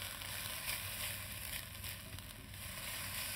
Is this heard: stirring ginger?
yes